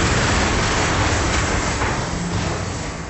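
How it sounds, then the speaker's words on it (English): A train rumbles steadily in a train simulator video game, a dense broadband roar of wheels and carriage noise filling the scene, loud and continuous with a slight fade toward the end. "Retro game to train sim."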